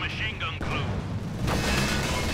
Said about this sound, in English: We did hear a Maxim get rifle grenaded and attempt at the steal